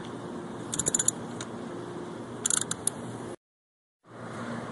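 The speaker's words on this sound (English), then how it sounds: "I am undoing the nut for the gear box drainage" Small metallic clinks and jingles as a gearbox drain nut is worked loose on a 4-stroke 49cc scooter, a few brief taps over a steady background hum that cuts out before returning.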